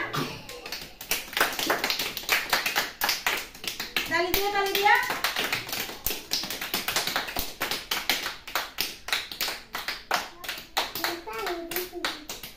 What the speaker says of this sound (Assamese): তালি দিয়া